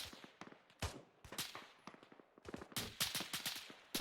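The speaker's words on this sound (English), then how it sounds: "I think the 50 cals are shooting them up" .50 cal machine guns fire in the video game Arma 3, giving irregular bursts of sharp gunshots, some distant and some louder, with quieter pops between them and no talk.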